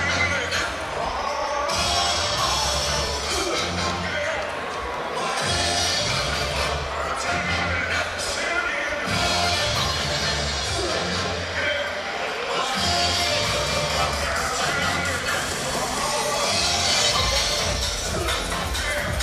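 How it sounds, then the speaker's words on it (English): Crowd at a live professional boxing event in Beverley, a steady roar of many voices and murmur filling the hall throughout, loud and continuous without clear peaks of cheering. "And some of the crowd there enjoying the atmosphere"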